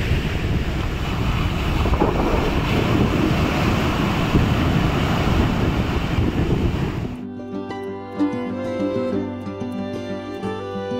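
Ocean surf rolls in steadily at Wellawatte beach in Colombo, mixed with wind noise on the microphone, for about seven seconds before music takes over.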